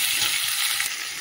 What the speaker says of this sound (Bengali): এই যে সবজিটা তো সাঁতলে নিয়েছি